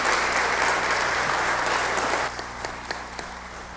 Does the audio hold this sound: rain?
no